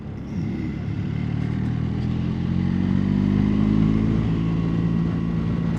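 A BMW R 1300 GS Adventure motorcycle rides in road mode through a 30 speed limit zone, its engine a loud, steady low drone with slowly rising and falling pitch, close and continuous.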